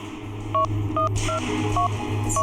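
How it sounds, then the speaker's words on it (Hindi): A telephone number is dialed with a quick run of about six crisp touch-tone beeps in an uneven rhythm over a low background hum, close and clear. "तू ऐसा कर, उस नंबर पे डायल कर।"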